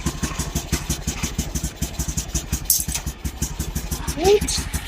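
A Honda CB110 motorcycle with a full-wave charging conversion runs with a steady, rapid engine pulse, close and loud, with a brief rise in revs near the end.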